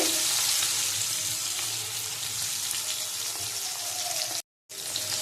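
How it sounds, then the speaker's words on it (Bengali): Hilsa fish frying in a wok of hot oil, a continuous close sizzle with scattered pops and crackles, briefly cut off near the end, no one speaking. "মাছ ভাজা চলছে"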